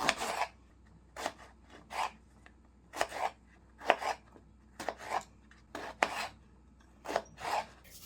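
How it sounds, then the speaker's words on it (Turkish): A knife chops through eggplant on a board in steady, evenly spaced strokes, about a dozen cuts, close and clear. "Öncelikle patlıcan kesip ve tuzlayalım."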